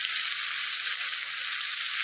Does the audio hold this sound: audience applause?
no